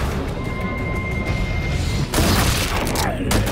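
Sniper gunfire in The Walking Dead: A New Frontier game, a dense roar of shots and booms that swells louder about two seconds in, heard under raised voices.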